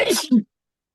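Someone in a seated audience at a French-language panel on tourism and land conservation sneezes once, a short, sharp burst up close that is over in under half a second.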